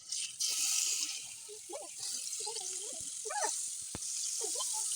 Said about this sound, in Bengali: ফ্রাই প্যানের তেলটি গরম হয়ে গেছে দিয়ে দেবো এখন মাছগুলো